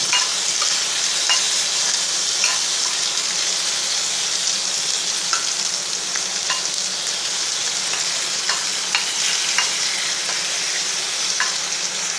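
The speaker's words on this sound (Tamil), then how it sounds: "சின்ன வெங்காயம், கருவேப்பிலை, ஒரு பூண்டு பல், தக்காளி, இதெல்லாம் பேஸ்ட் பண்ணுறதுக்காக கொஞ்சம் ஆயில் விட்டு வதக்க எடுத்துக்கிடுவோம்" Shallots, curry leaves, a garlic clove and tomato sauté in oil for a mushroom gravy paste, giving a steady, close sizzle with occasional light clicks of a stirring spoon against the pan, and no talking.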